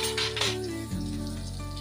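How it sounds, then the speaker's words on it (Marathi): Onion and tomato frying in a pan with ginger-garlic paste for a Maharashtrian bhaji, a steady close sizzle running throughout with no talk. "आपण हे चांगलं तळून घेऊया."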